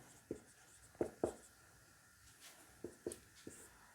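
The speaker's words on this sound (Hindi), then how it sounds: "यहाँ पर लिखेंगे यूक्लिड विभाजन" Chalk or marker writing on a classroom board during a Class 10 maths lesson produces a handful of short, sharp taps and scratches in irregular clusters, fairly close and clear in an otherwise quiet room.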